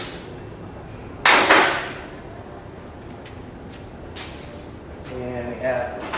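A cap popped out of a GlidePro stabilizing system part gives one sharp snap with a short rattle, followed by quieter faint clicks and handling noises. Light talk is present.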